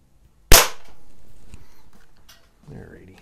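A single sharp crack from a Crosman .22 caliber pellet pistol, close and loud, followed by a short fading tail and faint handling noise.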